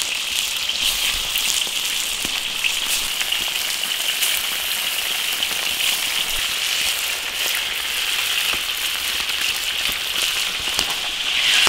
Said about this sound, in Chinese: 把这个鱼骨头煎一下，当然更香。